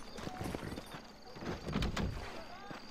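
Horse hooves clip-clop in the video game Red Dead Redemption, a short run of moderate hoofbeats under game ambience with a brief louder stretch near the end; talk overlaps.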